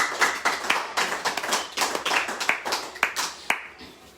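A church congregation claps together in rhythm to acclaim the Lord, steady hand claps filling the room with a few sharper accents, no voices on top.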